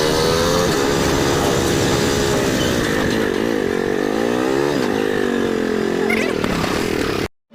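Motorcycle engine running close by with a steady droning hum that shifts in pitch as it revs, loud throughout before cutting off at the end.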